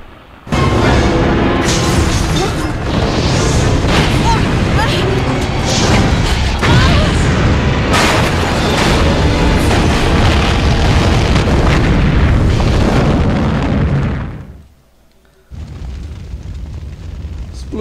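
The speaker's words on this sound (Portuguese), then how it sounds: "Explodiu tudo." Explosion in a Resident Evil 3 Nemesis game cutscene, a loud sustained roaring blast with crashing debris that drops away abruptly near the end before a softer rumble returns.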